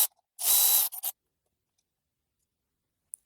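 A ratchet works on the oil filter housing bolts of an N42/N46 engine, a brief burst of fast ratcheting clicks followed by a couple of short bursts, then quiet and a faint tick.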